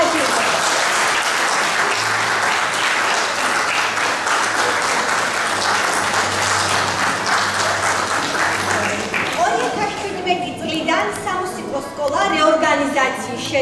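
An audience at a music school concert applauds loudly and steadily for several seconds. The clapping fades as a voice begins speaking over a microphone.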